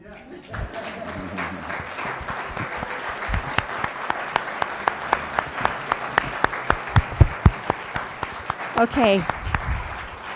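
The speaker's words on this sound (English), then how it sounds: "You may now applaud." Audience applause at a candidates forum, starting as scattered individual claps that build into a steadier round, with a voice speaking briefly near the end.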